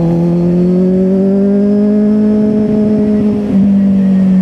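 A Kawasaki Z800 motorcycle engine revs loud and close, its pitch climbing steadily as it accelerates, with a brief dip near the end before it roars on.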